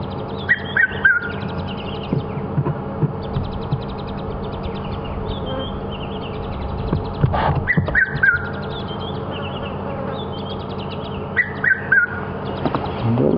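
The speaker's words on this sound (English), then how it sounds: "Can you hear that bird? Such a wonderful bird of the summer." A summer bird sings on an evening safari drive in the African bush, with bright repeated chirps and whistled phrases in bursts over a low steady background hum, plus a few sharp knocks.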